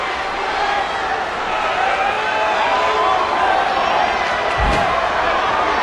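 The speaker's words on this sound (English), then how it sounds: "Would you listen to this crowd show their appreciation for these amazing competitors?" In the WWE 13 wrestling video game, an arena crowd sends up a continuous roar of cheering during a SummerSlam match, with one sharp thud near the end and commentary partly layered over it.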